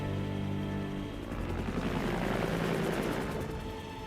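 A helicopter in the video game Resident Evil 3, a dense, steady rotor roar with a rapid chopping pulse that swells in the middle and holds at a moderate level, with no talking.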